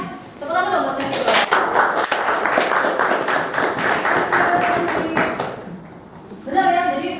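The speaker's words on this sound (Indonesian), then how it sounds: "Tepuk tangan dong buat Cendi." A classroom group claps hands together in a dense burst of sharp claps lasting several seconds, with children's voices talking briefly before and after.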